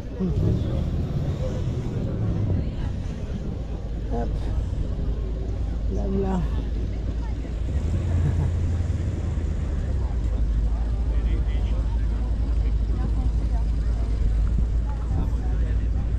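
A Cobra race car arrives at a collectors' gathering, giving a steady low engine rumble close by throughout. Several people talk over it.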